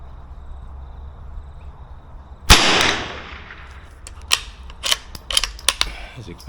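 A Bergara BMR .22LR rifle fires one sharp crack from Winchester PowerPoint ammunition, followed by a string of lighter metallic clicks and clatter from the action being worked.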